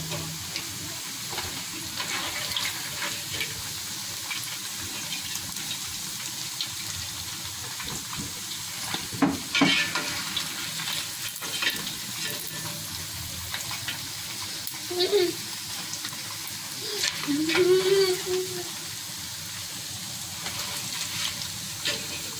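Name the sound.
frying meat for beef stew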